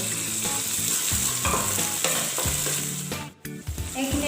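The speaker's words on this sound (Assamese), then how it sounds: "এইখিনি এতিয়া আমি আদা নহৰু কেঁচা গোন্ধটো যোৱালৈকে অলপ ভাজিম" Ginger, garlic and raw green chili fry in hot oil in a pan over a medium flame, giving a steady close sizzle with stirring scrapes and a brief drop near the end. No one speaks.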